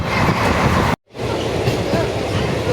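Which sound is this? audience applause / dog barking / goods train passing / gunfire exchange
goods train passing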